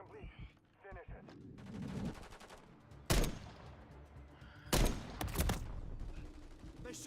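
Gunfire from the Call of Duty Modern Warfare 3 video game crackles in rapid bursts and automatic volleys, with two loud, close blasts standing out, while someone shouts and talks over the shooting.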